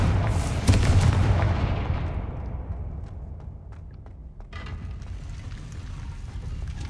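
A Confringo spell explosion in Hogwarts Legacy, a loud close blast with a deep boom that decays into a long rumbling tail, followed by faint crackling debris.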